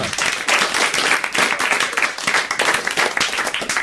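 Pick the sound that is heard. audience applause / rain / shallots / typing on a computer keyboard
audience applause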